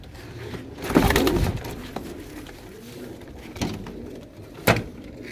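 Pigeons kept by a breeder coo in a few soft, rising bursts, fairly close, with quiet gaps and a couple of brief knocks between calls.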